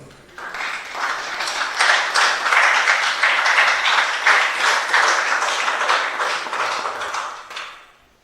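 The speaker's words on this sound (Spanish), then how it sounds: "Dele otro aplauso al Señor." A church congregation at a Spanish-language service applauds, many hands clapping in a dense, steady burst that swells, holds for several seconds, then fades out.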